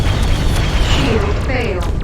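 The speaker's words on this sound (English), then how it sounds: "Incoming missile." A missile strikes a ship in the space combat game Freelancer, a loud, dense booming explosion that rumbles continuously for about two seconds, with swept whooshing tones layered over it and muffled radio voices faintly underneath.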